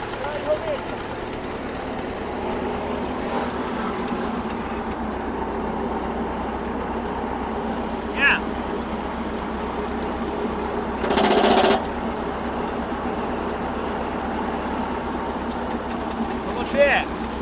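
An alfalfa mowing machine's engine runs with a steady, close, low mechanical drone for the whole stretch, broken by a few brief clicks and one short burst of hiss near the middle.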